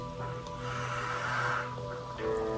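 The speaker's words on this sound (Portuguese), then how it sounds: "Um pigarrinho aqui na garganta" A person clears their throat with a short, rasping burst, close to the microphone, with no speech around it.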